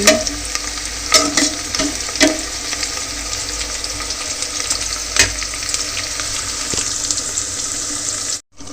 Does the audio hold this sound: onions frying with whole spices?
yes